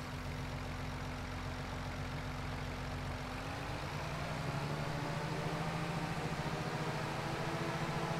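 A carrot harvester's engine in Farming Simulator 22 runs as a steady, continuous mechanical drone that shifts slightly in pitch partway through, with no talking.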